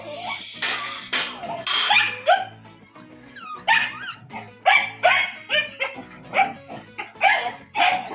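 A small dog barks and yips repeatedly in short, sharp bursts, close and fairly loud, with brief whimpery notes between barks.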